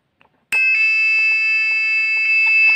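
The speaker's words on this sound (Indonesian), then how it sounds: "Jadi buzzernya itu tidak akan dari kondisi awal, tetapi akan melanjutkan pada frekuensi yang seharusnya dia bunyi." A bright electronic bell-like tone from a microcontroller buzzer (ATmega328P) playing a train station bell switches on suddenly and rings steadily, with small chiming pulses flickering through it, close and fairly loud.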